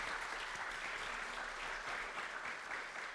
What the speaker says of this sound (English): One more round of applause for y'all.